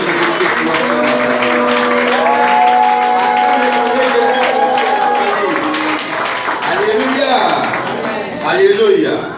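A church congregation claps and cheers loudly and continuously through a Sunday service, while a voice rises over the crowd with drawn-out, sung or called phrases.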